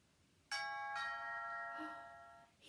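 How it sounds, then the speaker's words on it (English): A household doorbell chimes a two-note ding-dong, bright ringing tones that sustain and decay, quiet and fairly close, with a soft third strike trailing off near the end. "As the doorbell rang"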